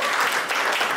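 Audience applause from a crowd at an event, a brief dense burst of clapping heard alone at moderate loudness.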